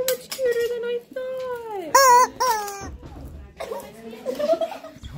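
A chicken being squeezed lets out a run of loud, strained, pitch-bending squawks and crowing cries, close by, mixed with excited voices and laughter.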